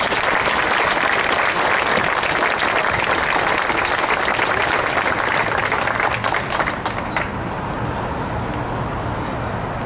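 An audience at the USS Cincinnati ship welcoming ceremony breaks into loud, sustained applause, dense clapping that fills most of the moment before thinning out toward the end.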